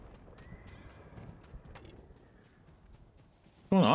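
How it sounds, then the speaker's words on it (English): Ghost of Tsushima horse gives a sudden loud, close neigh at the very end, after a few seconds of quiet hoofbeats and background game sound. "Ooh, horse making loud noise"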